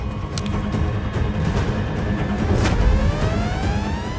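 An auto rickshaw pulls away on a road, its small engine droning steadily with a slight rising pitch as it accelerates, mixed with surrounding street rumble and no voices.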